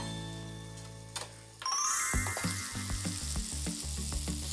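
Butter hits a frying pan of cabbage tsukune patties over medium-low heat, and after a brief quiet, steady hissing starts and carries on with light clinks and scrapes of a utensil in the pan.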